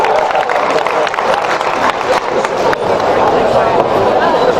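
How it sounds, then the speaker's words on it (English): An audience at a university event breaks into a dense, continuous round of applause that stays loud throughout, with some crowd noise mixed in as a performer is welcomed on stage. "But Chidozie Onyema, please join us. Round of applause."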